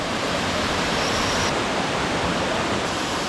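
A Chinese mountain waterfall roars as a loud, steady broadband rush of falling water, constant and close throughout with no other sounds.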